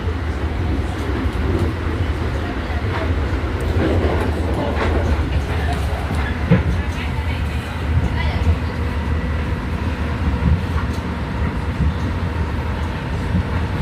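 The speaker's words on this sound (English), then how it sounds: "this train is the train that me take anytime I take train, you know. Clean and nice, comfortable" A clean, comfortable commuter train rides along its tracks on the way to Battery Park, giving a steady, loud rolling rumble throughout with voices faintly mixed in.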